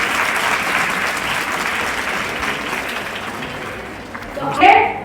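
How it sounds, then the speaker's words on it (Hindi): Applause from an audience at a Women's Day event for a women employees' welfare union in New Delhi, steady crowd clapping that fades gradually, with a brief louder swell and a voice near the end. "जरा जोरदार तालियां बजाइए हमारे एनडीएमसी के भाई।"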